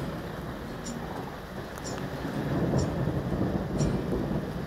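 Steady late-summer rain in the high desert hisses with a low rumbling undertone of distant thunder, the roar swelling slightly louder partway through.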